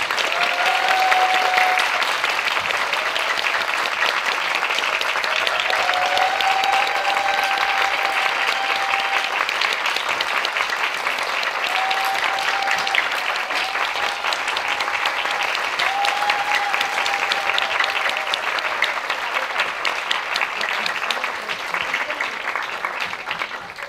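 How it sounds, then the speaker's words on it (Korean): Sustained, dense applause fills a hall as an audience welcomes the director and cast of the Japanese film Linda Linda Linda at a Korean screening Q&A, continuing unbroken with no talk. "큰 박수로 환영해 주시기 바랍니다."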